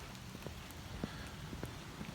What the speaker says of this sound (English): rainy day here in East Tennessee as usual